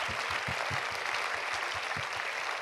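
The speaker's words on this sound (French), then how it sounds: "je tiens aussi à ce qu'on puisse les applaudir à nouveau" A conference audience gives a fairly faint but continuous round of applause. Dense clapping runs steadily with a low rhythmic thumping underneath.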